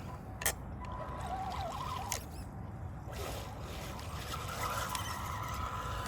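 A small RC truck churns and splashes through thick mud, a steady close-up grind of wet spatter and motor whine with a few sharper slaps and squeals, no talking.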